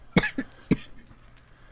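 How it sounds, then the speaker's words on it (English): A woman coughs during a recording session, two or three sharp, close coughs in quick succession followed by a quieter throat sound, with nothing else audible around them. "As soon as we start recording, she has to cough just randomly for no reason."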